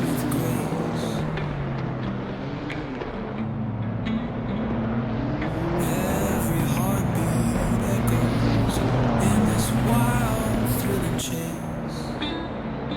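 Race cars launch hard off the starting grid, a dense roar of engines revving and building steadily for the whole stretch, with tonal engine harmonics rising and shifting as they accelerate together.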